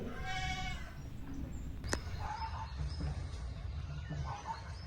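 A large ram bleats on a farm near a papaya and chili garden, a wavering call at the start with faint birds and steady outdoor background after it.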